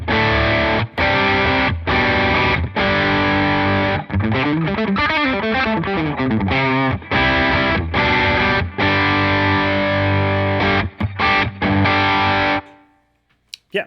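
High-gain electric guitar played through the Helix prize drive overdrive model, loud and saturated, with chugging chords, short palm-muted stops and a sustained bend passage before it rings out and cuts to near silence.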